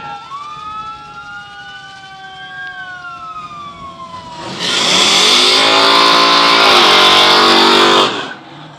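A car rolls past in a Christmas parade on Main Street, its engine swelling into a loud, close, broadband roar after a wailing siren tone sweeps and fades in the background; no talk.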